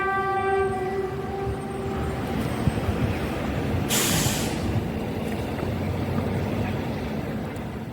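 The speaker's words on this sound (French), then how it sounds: "On parlait de la rareté des trains, en voici justement un." Russian-built Metro-Vagonmash diesel train passing near Kraljevo, Serbia, with a loud horn blast at the start, then a steady rumbling roar of wheels and engine and a brief hiss of air, with no talk.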